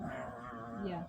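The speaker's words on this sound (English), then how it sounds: "If you guys heard that, that was my dog." A pet dog whimpers in a high, wavering whine close to the microphone, with a person's brief word over it.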